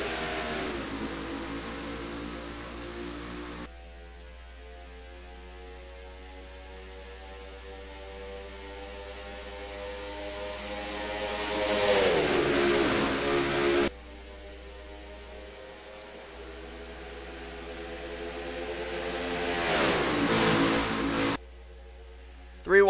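Race cars roaring at the green flag of the Daytona 500 in a racing video game, engine drone swelling and fading in two long passes over a constant background hum.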